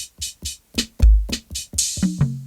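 A short hi-hat sample from the Arturia iSpark iPad app is tapped repeatedly on a pad, crisp close ticks in an even pulse, followed by a few denser hits near the end, with no talk.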